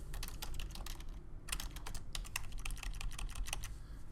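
Fast, steady typing on a computer keyboard, a continuous run of close, crisp key clicks with a brief pause partway through, over a low background hum.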